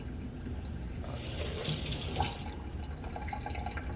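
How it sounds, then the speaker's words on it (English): Water running from a tap into a Nutribullet blender cup, a faint steady stream that rises into a brighter gush in the middle before settling back. "I add a little bit of water to this"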